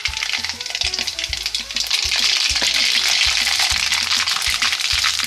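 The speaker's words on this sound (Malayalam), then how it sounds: "ചൂടായ എണ്ണയിലേക്ക് നമുക്ക് കടുക് പൊട്ടിച്ചെടുക്കാം" Mustard seeds splutter and pop in hot oil for a Kerala-style lemon pickle, a loud, dense sizzle with rapid crackles that builds and holds steady throughout, with no voices.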